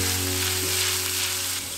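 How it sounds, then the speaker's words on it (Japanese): Minced ginger and garlic sizzle in sesame oil in a frying pan over low heat, a steady close hiss with a faint low hum beneath, brief and unbroken. "フライパンにごま油をひいて、みじん切りにした生姜とニンニクを弱火で炒めていく。"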